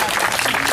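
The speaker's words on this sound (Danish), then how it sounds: "så klapper de alle sammen til dig." A brief burst of dense audience applause at a 40th-anniversary afternoon celebration for Egevang Nord, loud and close, with a voice talking over it.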